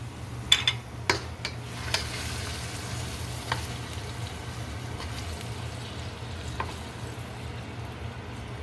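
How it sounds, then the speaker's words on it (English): Cooked ground meat for chili con carne being strained of its excess fat into a bowl, giving a low steady sizzle and liquid bubbling with a few sharp clicks and taps of a pan near the start. "I'm just going to strain the excess fat off, being very careful not to lose the meat."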